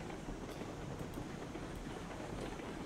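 A Cooke Mogul steam locomotive in the RailRoads Online game rumbles along in a steady, dense roar of wheels and rolling stock, with faint rhythmic clicks over the rails, continuous and close.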